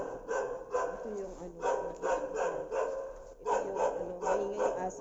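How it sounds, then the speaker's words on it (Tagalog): Dogs bark in repeated, rhythmic bursts at night near the morgue at Clark, Pampanga, loud and steady across the whole stretch, with a voice talking in between. "maingay yung aso ng mga idol."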